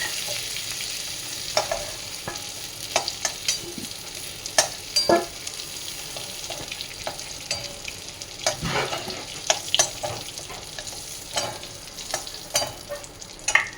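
Pieces of tinda (apple gourd) fry lightly in a pan with a soft continuous sizzle, punctuated by scattered clicks and scrapes of a spatula stirring, close up and with no speech.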